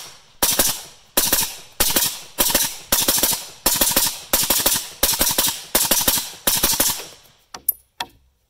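Suppressed AK47 firing Brown Bear 7.62x39 subsonic ammunition, about ten sharp, loud shots at a steady pace, each with a short decay, followed by a few fainter clinks at the end.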